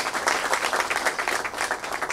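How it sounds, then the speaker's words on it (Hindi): An audience at a Marathi film trailer and music launch applauds steadily, a dense wash of clapping filling the hall for about two seconds with no speech over it. "इसलिए ज़ोरदार तालियां गूंज रही हैं।"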